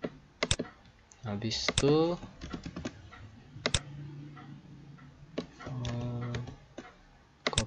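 Computer keyboard typing with Ctrl C and Ctrl V copy-paste shortcuts, sharp isolated key clicks scattered among a person speaking Indonesian nearby.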